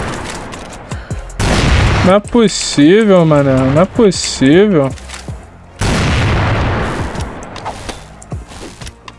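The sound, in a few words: gunshots in a video game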